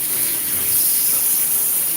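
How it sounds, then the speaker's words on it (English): Water pours steadily from a shower head in a house during a walkthrough, a loud, even hiss of spray filling the whole stretch with no voices. "turn the water on, and hit that shower, and make sure that you have water coming out"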